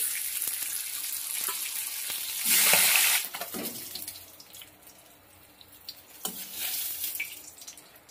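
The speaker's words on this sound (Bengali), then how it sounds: "একইভাবে পরের মাথাগুলো ভেজে নেব" Fish heads fry in hot oil in a kitchen karahi with a steady, moderate sizzle, a louder hissing burst partway through as more pieces go in, and occasional clinks and pops.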